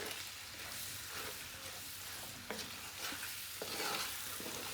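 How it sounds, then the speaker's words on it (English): About 450 grams of onions frying over medium gas in a pan, a steady close sizzle broken by scraping stirs and a few sharp knocks of the utensil, with no voices. "Now we just want the onions to be like a fried flavour and softened up slowly."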